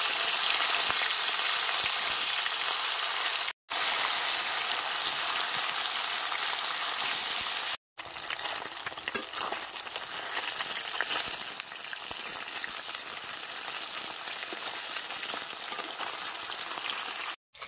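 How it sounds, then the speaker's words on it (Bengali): Fresh fish frying in pure mustard oil in a kadai, a loud, dense, continuous sizzling hiss broken by two short silent gaps. "কড়াইয়ের তেল গরম হয়ে গেছে, এবার মাছগুলো দিয়ে দেবো"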